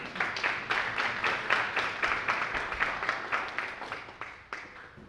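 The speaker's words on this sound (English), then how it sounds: "Give him a round of applause." Audience at a scholarship fundraising gala applauding, a fairly quiet, steady patter of many hands clapping with slightly uneven pulses, fading toward the end.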